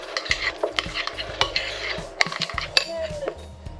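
Horseradish solids being mixed in a bowl with a utensil, giving a run of irregular scrapes and clinks, fairly close, with a low background hum underneath.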